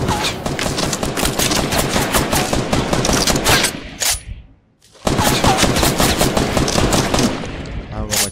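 Loud, rapid bursts of automatic gunfire in Fortnite rattle on for about four seconds, break off briefly, then resume in another long sustained stream of shots.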